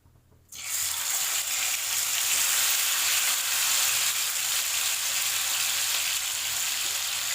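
Chicken pieces dropped into hot coconut oil for biryani, bursting into a loud, steady sizzle that starts abruptly and continues evenly without any voices.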